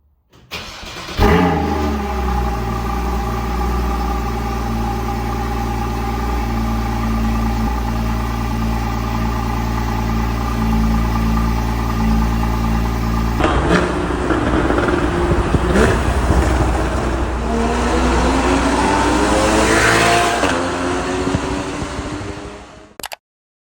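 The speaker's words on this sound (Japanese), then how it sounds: "じゃあちょっととりあえずコールドスタートしてみましょうか。" Porsche Cayman GTS 981 flat-six cold start in Tokyo: a sharp crank and loud catch, then a steady high-revving fast idle that holds, shifts in tone midway and settles lower, close and continuous with no talk.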